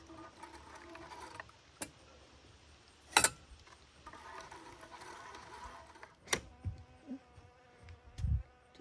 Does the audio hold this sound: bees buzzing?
yes